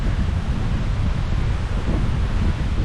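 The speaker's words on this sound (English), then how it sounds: "Pretty wild at the top. Very windy" Strong wind buffets the microphone on a hilltop, a loud continuous low roar with gusty swells and no voices.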